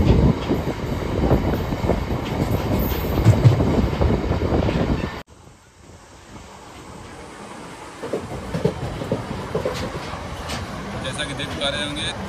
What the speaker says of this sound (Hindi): तेज रफ्तार से मेमू एक्सप्रेस स्पेशल ट्रेन चल रही है